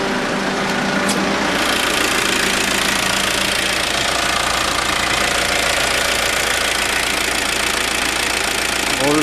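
1995 Mazda Bongo Friendee engine running steadily after a cylinder head install, a loud, even idle with a constant mechanical clatter and no voices throughout.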